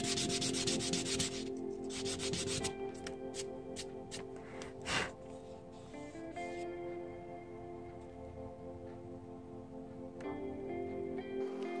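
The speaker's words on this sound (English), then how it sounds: "sanding edge again" Repeated scratchy rubbing of sandpaper against a leather edge, close and steady, with a few sharp scrapes and short pauses between strokes.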